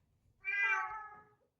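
A single clear cat meow rises and then trails off, close by against a quiet background.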